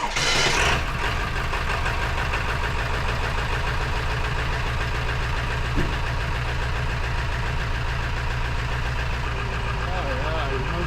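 A Ford 7.3 turbo diesel engine, the non-common-rail type, idles steadily and loudly after a start in sub-zero cold. A dense, continuous rumble carries a slight knock, and brief talk sits under it.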